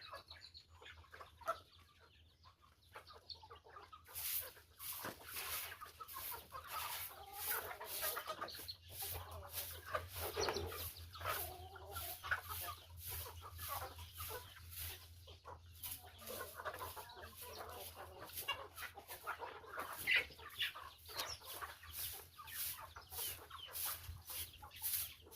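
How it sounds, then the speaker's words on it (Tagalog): Backyard chickens clucking and calling after feeding on a Filipino farm, a steady busy chorus of mixed clucks with occasional wing flaps, fairly close, no talk. "pinakain na po ni Junjun yung mga alaga nating manok"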